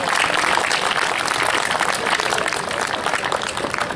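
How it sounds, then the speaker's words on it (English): A school investiture ceremony audience gives a big, continuous round of clapping for student office-holders Abhinav Jain and Divyani Saldi, loud and close throughout, with no voices heard over it. "Let's give them both a big round of applause."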